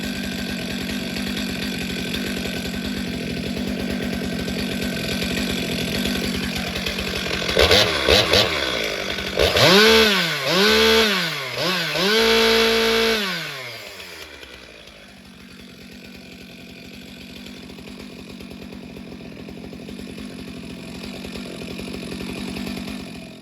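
A Stihl MS462 chainsaw engine runs close by, idling with a rough drone, then revving up and down in several sharp bursts before settling back to idle.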